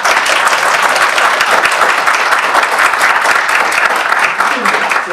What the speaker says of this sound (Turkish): Doktor Serdar Savaş gençler tarafından çılgınca alkışlandı.